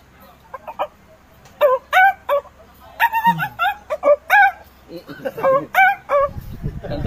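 A rooster crows loudly several times in succession, long strained calls close by, with a dog barking in between and some background noise.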